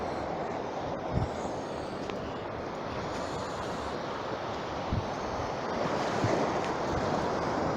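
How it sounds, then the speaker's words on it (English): Ocean waves crash continuously onto a beach while someone walks along the beachfront, a broad roaring wash with occasional louder surges and wind buffeting the microphone. "You can hear the crashing of the waves at the moment as I'm walking down the beachfront."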